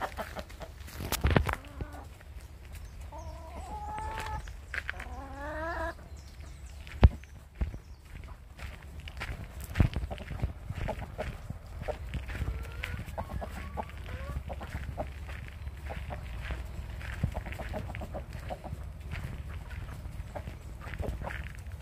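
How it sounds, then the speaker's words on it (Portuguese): Free-roaming farm chickens cluck and call in short bursts around 1 to 6 seconds, then fade into a busy yard of footsteps and soft scattered noises, moderately close. "As galinhas estão soltas"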